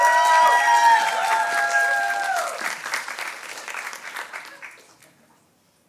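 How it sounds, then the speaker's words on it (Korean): Audience applause at a Korean-language speaking contest in Toronto welcoming a contestant, a crowd clapping briefly with a few tonal voices or whistles early on, then fading away to silence over about five seconds. "큰 박수로 환영해 주세요."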